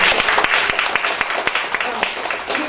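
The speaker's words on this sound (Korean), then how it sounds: "경례의 박수를 한 번 더" Audience applause at an indoor policy forum on raising the elderly age threshold, a dense burst of many hands clapping close and loud, with a voice speaking over it.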